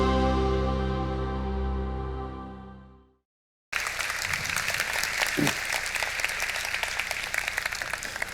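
Audience applause greeting a professor before a public natural-science lecture at Seoul National University, a steady dense clapping of a hall crowd that starts abruptly after a long fading musical tone and continues evenly.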